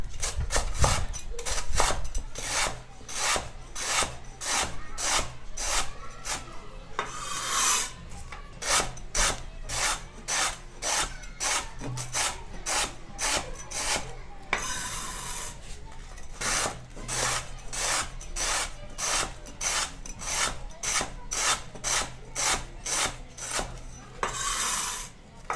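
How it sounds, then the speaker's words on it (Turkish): Cocoa biscuits are crumbled by hand in a close, repeated crunching and rasping rhythm, with short bursts of crackle recurring steadily throughout. "Bisküvileri bir güzel ufalıyorum."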